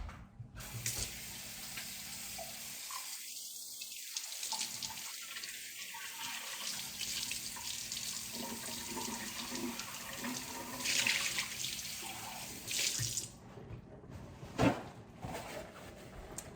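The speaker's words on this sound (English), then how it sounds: "I'm gonna rinse out my cup" Water runs steadily from a sink tap while a cup is rinsed, a continuous close splashing hiss with brief shifts and dips as the cup moves under the stream; a small knock comes near the end.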